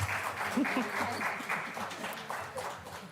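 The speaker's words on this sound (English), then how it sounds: "Let's give our young people another round of applause" A meeting audience gives a round of applause for young people, dense clapping heard at moderate distance with voices murmuring underneath.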